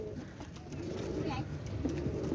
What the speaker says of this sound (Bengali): অসাধারণ কবুতর